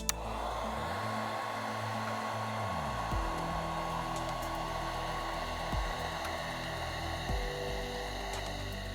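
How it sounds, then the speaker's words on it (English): A heat gun blows a steady, loud airy roar while shrinking heat shrink tubing around a plastic barb, with a faint fan hum and a few soft clicks in the background. "hit it with our heat gun"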